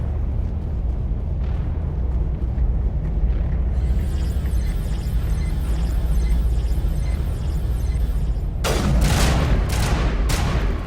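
Rifle gunfire and explosions from the video game Mass Effect, a dense rumbling barrage of booms with a burst of sharper shots near the end, and no talking.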